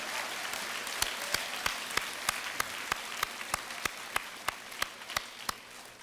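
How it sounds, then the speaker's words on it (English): An audience at a high school honors assembly gives students a round of applause, a steady crowd clapping with one nearby pair of hands standing out in sharp, regular claps over the wash. "Let's give these students a nice round of applause"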